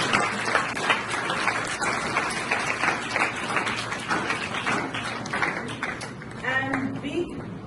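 An audience claps for the teachers, a steady patter of many hands running throughout at moderate volume, with a voice speaking briefly near the end.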